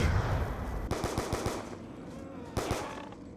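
M14 rifle fire in a Call of Duty Zombies match: bursts of rapid shots, a quick run of cracks followed later by another short volley, under game ambience.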